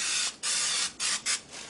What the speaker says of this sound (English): now I'm going to spray them with my oil.